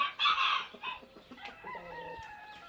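A rooster in a backyard chicken coop on a Mexican ranch crows loudly up close, a ragged, drawn-out call that fades into softer clucking and chatter from the flock.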